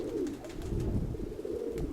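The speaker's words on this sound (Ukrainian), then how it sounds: "У мене тут 107 голуб є." Pigeons in a dovecote holding about 107 birds give a continuous low, rolling coo, several overlapping calls close by and fairly soft, with no talk.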